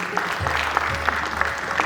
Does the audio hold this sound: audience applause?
yes